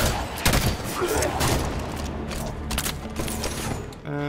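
Gunfire and mechanical clatter in the video game Halo 5: Guardians, dense bursts of shots and ratcheting over a busy loud mix, with a voice speaking briefly.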